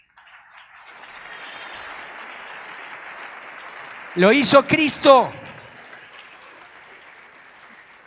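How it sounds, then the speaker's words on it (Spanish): Church congregation applauding in steady, moderately loud clapping that rises and then tapers off, with someone speaking briefly partway through. "Denle un aplauso al Señor."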